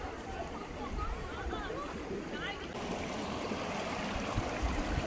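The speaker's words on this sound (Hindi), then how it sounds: "यहाँ से नदी बह रही है." A rocky river beside an elephant camp flows with a continuous rushing, gurgling wash that stays steady and fairly close, while a person talks over it at times.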